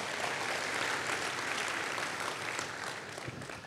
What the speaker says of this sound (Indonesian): Berikan tepuk tangan buat Tuhan Yesus ya.